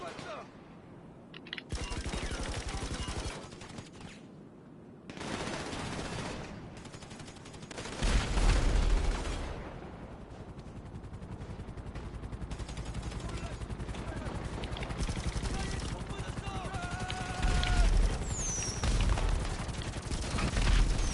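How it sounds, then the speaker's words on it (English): Gunfire in GTA V Online: repeated bursts of automatic fire and loud single shots crackle in clusters, some booming, interleaved with someone talking and a few short whistling tones. "Somebody's shooting at me."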